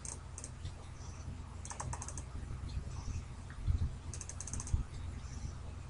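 Computer mouse clicking while drafting a stair railing in Archicad, quick light clicks in pairs and small clusters over a low background hum, with no talking.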